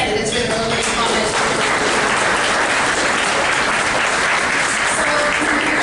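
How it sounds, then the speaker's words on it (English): A room full of people applauding candidates at a local mayoral debate, steady and dense clapping that fills the whole stretch without a break. "A round of applause to all our candidates for their lovely comments."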